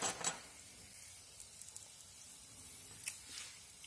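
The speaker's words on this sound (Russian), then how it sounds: "Жарятся они очень быстро, 2-3 минутки." Savory cheese pancakes with herbs fry in a pan, giving a faint, soft sizzle with scattered small pops and crackles.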